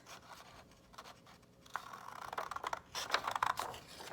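Scissors cutting along the fold of folded origami paper, soft crisp snips and scraping heard up close, growing busier and louder toward the end.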